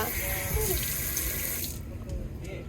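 Water runs steadily from a tap while hands are washed under it, a close, continuous splashing rush that thins out and quiets near the end.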